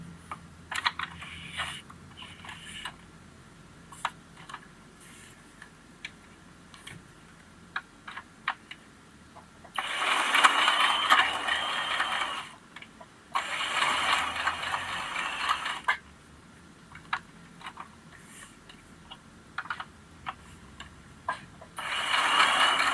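A sewing machine runs a zigzag stitch along the edge of fabric for menstrual underwear. Two fast, close mechanical bursts of stitching stand out between stretches of quieter ticking and clicking.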